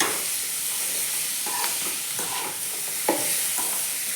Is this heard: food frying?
yes